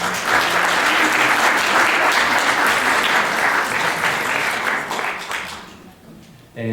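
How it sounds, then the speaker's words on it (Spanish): An audience at a talk on parapsychology and syntergic theory applauds a speaker, a dense, loud wash of clapping that holds steady for several seconds and then fades out near the end. "Un aplauso para ella, por favor."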